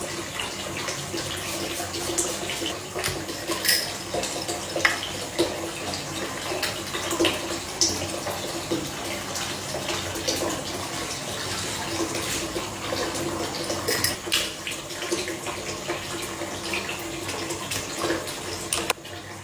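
Water sloshes and splashes steadily in a bubble bath, a continuous close wash of gentle movement and drips with no talk over it.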